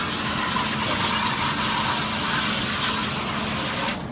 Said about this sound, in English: I'm gonna go ahead and wash the coils.